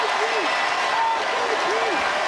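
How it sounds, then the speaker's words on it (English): Applause rolls through a packed arena after the Boston Celtics win the NBA Finals over the Dallas Mavericks, a steady crowd clatter running the whole time under faint, drawn-out cheering voices. "look at Tatum clapping for him"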